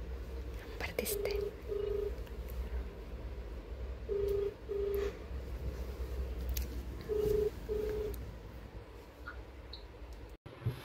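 A mobile phone dials out on a call, giving three pairs of short steady tones at a regular pace under faint whispering and light handling clicks in a quiet room.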